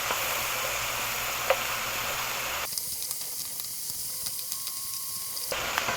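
Butter sizzling and hissing in a pan while cooking beef stroganoff, a steady close sizzle that abruptly drops quieter midway and then rises again near the end, with no talk.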